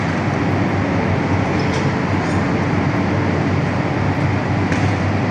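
An Aeroexpress train runs from the airport to Vladivostok, a loud continuous rumble of wheels and carriage noise heard from inside, steady throughout with faint rhythmic clatter.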